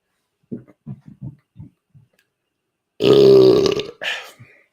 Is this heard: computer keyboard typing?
no